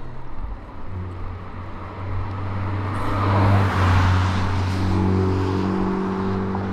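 A car passes on a road, its engine and tyre noise swelling to a peak midway and then fading, heard alone outdoors with a steady low rumble.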